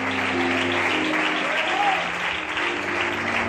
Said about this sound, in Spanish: A su nombre y aplaudan.